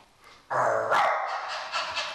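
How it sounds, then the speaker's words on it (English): Barking-like yelps start abruptly and continue in a loud, dense burst, with a second surge midway, close and energetic. "How dogs react to human barking."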